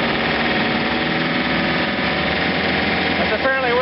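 A John Deere 2720 compact tractor engine running at high, steady RPM while driving a 47-inch snowblower, a loud continuous drone with someone speaking over it.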